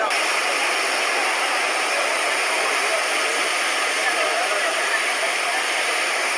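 Floodwater flowing underground, a loud, steady rushing roar that holds without a break.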